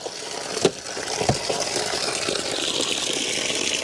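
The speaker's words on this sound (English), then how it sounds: "Look at the water flowing here. Doesn't fill up." Water flows steadily through a gutter filter with an even rushing wash, plus a couple of brief splashy knocks near the start and no voices.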